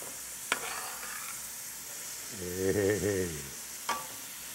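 Onions and chopped bell pepper sizzle steadily in a pan, with two sharp utensil clacks as they are stirred and a voice briefly calling out over the frying.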